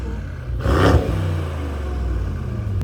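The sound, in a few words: Mercedes E63S AMG engine revving without exhaust pops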